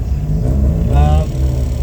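A rally car at a forest rallysprint in Ashley Forest sits on a close, rumbling idle, then revs up sharply in one brief rising burst before settling back to a throaty idle.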